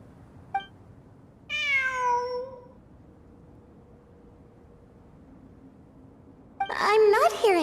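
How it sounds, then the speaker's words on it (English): A cat meowing in a Genshin Impact cutscene: one drawn-out, falling meow, clear and close against a quiet hum, followed by further cat cries that overlap with a voice. "It really is a cat."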